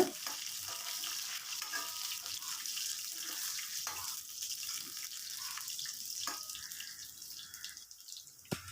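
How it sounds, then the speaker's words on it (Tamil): Garlic and curry leaves frying in a pan make a continuous hiss and crackle with a few sharp stirring clicks, moderately quiet and alone without speech. "அதை போட்டு தாளிச்சிக்கலாம். பூண்டு நல்லா வதங்கட்டுங்க, வதக்கி விட்டுக்குங்க."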